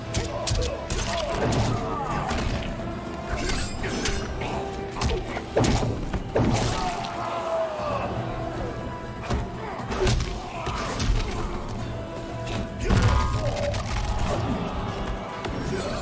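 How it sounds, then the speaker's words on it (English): Mortal Kombat 11 round between Baraka and Scorpion, with repeated heavy thuds, slams and crashing impacts from fighting attacks over a steady game soundtrack and background crowd noise, continuing throughout. "So Scorpion missed his fatal blow attack"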